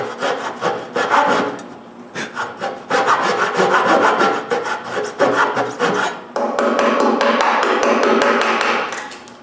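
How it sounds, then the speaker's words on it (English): Hand saw cutting wooden pins for a tool rack, a run of quick rhythmic rasping strokes with brief pauses, close and fairly loud, no voices. "cut the pins"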